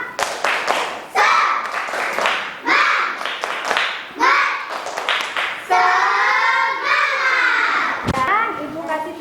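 A primary-school class does a rhythmic spirit clap: sharp, loud group clapping in short patterned bursts, alternating with children's voices chanting and shouting together, all close and energetic.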